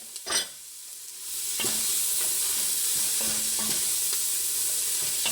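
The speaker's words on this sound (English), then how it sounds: "I'm going to cook these until the onions and all the other vegetables, the celery and the green pepper, are tender" Onions, celery and green pepper stirred and sizzling in melted butter in a pan for jambalaya, a steady close frying hiss after a brief clatter, with scraping stirs throughout and no talk.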